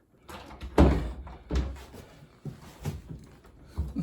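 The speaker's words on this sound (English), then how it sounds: "only to find out this door doesn't latch anyway" A hollow core door thuds and bumps several times, swinging closed with a soft knock and rattle rather than a firm latch click, as it does not latch.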